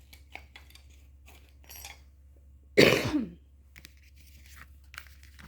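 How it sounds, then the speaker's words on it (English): A single loud throat clearing bursts out in a quiet room, brief and close, surrounded by faint background rustles. "I'm going to clear my throat"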